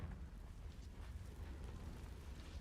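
Confringo fire spell exploding in Hogwarts Legacy, a dense, continuous rumbling blast with crackling burst texture and heavy low-end roar sustained throughout, no voices.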